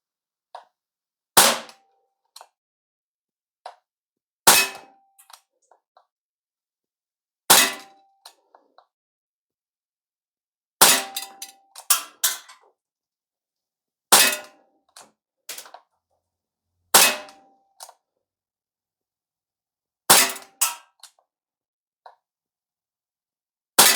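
A Barra 380 CO2 BB pistol fires about eight sharp, snappy shots at irregular intervals of a few seconds, each one loud and close against near silence. Faint clicks and handling noises fall between the shots.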